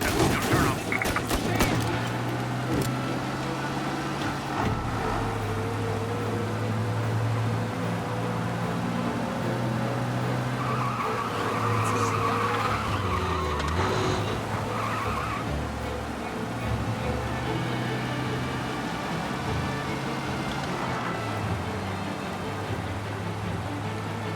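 Cars race and skid through a getaway chase in the game Mafia Definitive Edition, steady engine roar with tire squeals and what may be bursts of gunfire, a voice speaking briefly over the din.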